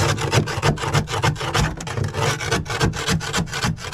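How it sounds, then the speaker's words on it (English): Rasping, scraping strokes of a scraper and wire wheel working rust off the floor of a Dodge Ram truck, a steady close run of repeated gritty rubbing pulses with no talk. "After a bunch of scraping, wire wheeling, and vacuuming, here's what we ended up with."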